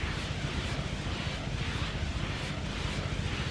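Helicopters in Just Cause 3, a steady heavy rotor roar with faint pulsing chop, continuous and fairly close.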